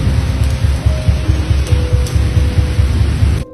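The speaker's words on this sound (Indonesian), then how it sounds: "Apalagi di pinggir jalan dengan cuaca yang sedang diguyur hujan lebat." Heavy rain pours steadily beside a roadside, a dense, loud and continuous hiss with low rumbling beneath, cutting off abruptly at the end.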